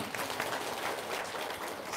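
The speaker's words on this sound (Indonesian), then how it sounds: "Tepuk tangan dulu dong." An audience applauds during a live-streamed religious talk, a dense, even patter of many hands clapping at moderate volume without a break.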